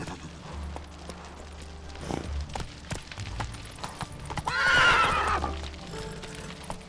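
Roach, the horse in The Witcher 3, gallops with clip-clopping hooves and lets out a loud whinny midway, with a brief spoken command.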